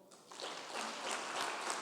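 Congregation applause at a church sermon, rising after a quiet start into steady, moderately distant clapping that carries on to the end.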